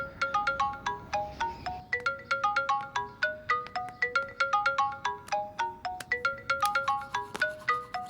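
A phone ringtone for an incoming call, a bright repeating electronic melody of quick ascending and descending notes that plays steadily and loudly, with no voices over it.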